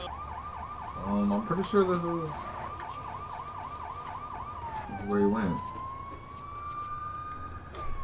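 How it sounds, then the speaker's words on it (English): A police car siren in the video game Lego City Undercover wails in a steady rising and falling cycle, with short horn-like blasts and a falling pitch near the end, while a person talks over it. "I gotta turn my sirens off."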